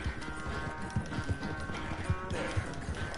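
A horse gallops in the Red Dead Redemption video game, its hooves beating a steady, rhythmic clip-clop over a constant bed of ambient game noise.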